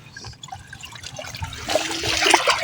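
Water splashes and trickles as small bamboo fish traps are lifted from a shallow ditch, with faint dribbling at first and then louder, busier splashing near the end.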